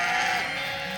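Sheep on a farm give a single loud, close bleat lasting about a second while flocks are sorted and moved.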